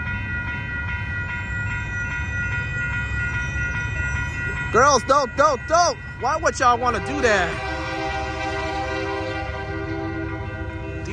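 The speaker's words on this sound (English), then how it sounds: "we got the Union Pacific Mulford train coming by" A Union Pacific freight train rumbles steadily past a crossing on Fruitvale Avenue in Oakland, California, its horn sounding in several short, loud blasts midway, with a person speaking over the noise.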